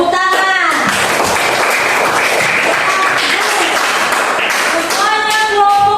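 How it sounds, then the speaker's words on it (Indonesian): Students in a classroom applaud a group's discussion presentation with loud, dense, continuous clapping, and children's voices are heard at the start and end. "Tepuk tangan"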